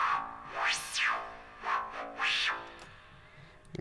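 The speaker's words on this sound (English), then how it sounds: "now we're going to use a convolution reverb" A synthesized psytrance sound design texture processed through a convolution reverb in Bitwig, with sweeping, swelling tones that rise and fall in several distinct waves before trailing off.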